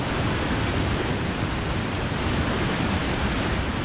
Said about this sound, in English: So I'm thinking this waterfall's got to have a name.